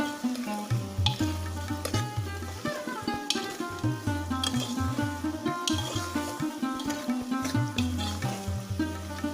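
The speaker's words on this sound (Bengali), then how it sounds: "এবার হাতাটা একবার চালিয়ে নেব" A ladle stirring boiled yardlong beans in a pan, soft rhythmic scraping and wet shuffling strokes at a steady pace, close and fairly quiet under a constant background tone, with no talking.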